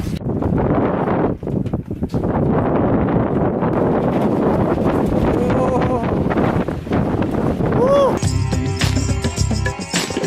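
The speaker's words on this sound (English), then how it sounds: "at this point, it is really very windy" Strong gusty wind roars across a steep volcano slope in Indonesia during a climb, buffeting the microphone with heavy low rumble, and brief tonal squeaks and clatter appear near the end.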